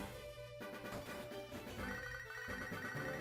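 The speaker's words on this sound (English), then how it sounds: "The Pokegear's ringing." A Pokégear phone in Pokémon HeartGold rings with a steady electronic chiming tone over looping game music, fairly quiet and continuous.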